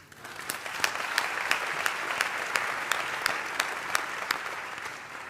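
Steady applause from an audience at the WAiFF 2026 awards ceremony, a dense, continuous wash of clapping with a few sharper individual claps standing out, filling the whole stretch with no talk over it.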